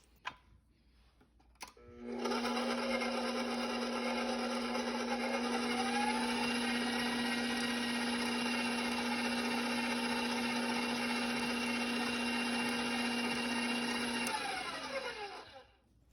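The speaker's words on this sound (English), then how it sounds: "Then I'm going to mix these ingredients on the lowest setting to combine them." A stand mixer on its lowest setting whirs steadily while combining sugar and vanilla bean powder, a close, even motor drone that starts after a couple of clicks, runs for about twelve seconds, then winds down.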